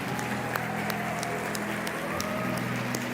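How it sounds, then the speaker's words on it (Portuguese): A church congregation applauds the fathers, giving steady, moderately distant clapping that holds evenly throughout, with faint room murmur beneath. "dê uma salva de palmas para esses homens."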